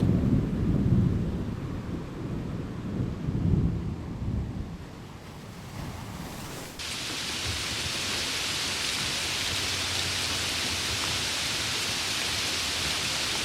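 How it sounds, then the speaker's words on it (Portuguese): Steady heavy rain on a rocky coastal shore, a dense broadband hiss that thickens abruptly partway through, with low rumbling surf or distant thunder-like swells underneath early on; no talking. "Chove no costão rochoso"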